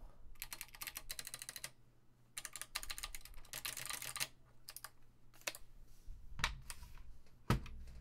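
Bursts of rapid, loud clacking come from a mechanical keyboard, with several fast runs of keystrokes broken by short pauses and a few heavier single key thumps near the end.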